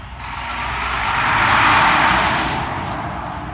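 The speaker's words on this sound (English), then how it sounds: "So that was a commercial truck, what do they call it? Bobtailing, when they have no trailer." A commercial truck bobtailing without a trailer rolls past on the 101 near Salinas, California, a broad road roar that swells to a peak mid-pass and then eases off, with no talk.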